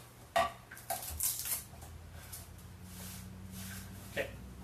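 A knife trims the root ends off two garlic cloves on a cutting board, giving a few sharp clicks and taps up close, with a louder cluster of knocks early and one more firm tap near the end.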